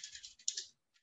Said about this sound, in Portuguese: vou digitar aqui